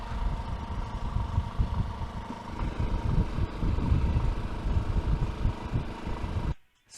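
A motorcycle engine chugs along in third gear at about 3,000 RPM, a steady low rumble with wind noise throughout, cutting off abruptly near the end.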